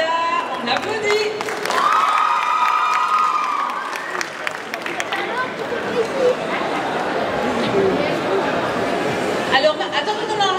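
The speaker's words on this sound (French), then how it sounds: "On applaudit." An audience at a manga and cosplay festival contest applauds and cheers after a cosplayer's pose on stage. Chatter and shouts mix into the steady clapping, and a voice rises above it early on.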